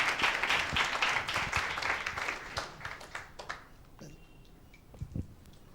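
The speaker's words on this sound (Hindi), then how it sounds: "एक जोरदार ताली देते हैं परमेश्वर के नाम की महिमा के लिए" Applause from a church congregation welcoming a guest preacher, a dense burst of clapping that thins out and fades over a few seconds, leaving scattered claps and quiet room sound.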